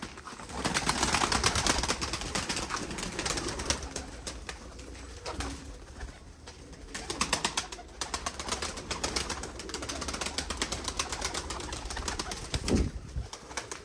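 Pigeons coo and rustle steadily in an enclosed space, with flutters of wings and a constant busy background of birds close by.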